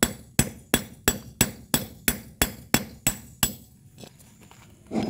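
Ten sharp, evenly spaced metallic hammer strikes drive a bushing into a Honda CB150X swingarm, each ringing briefly before the next, then a short pause.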